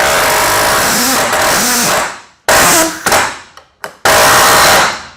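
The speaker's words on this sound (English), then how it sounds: "I'm gonna try one with just the rigid palm nailer to see how this goes." A Ridgid battery-powered palm nailer drives a nail, giving loud sustained buzzy hammering bursts that stop and restart a few times, close up with no talk.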